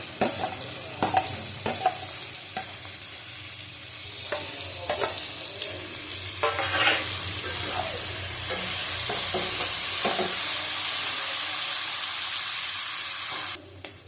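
Chopped green chili and capsicum fry in a pan for egg chicken chow mein, with a loud steady sizzle that swells and holds, broken by scattered stirring clacks of a spatula, no talking.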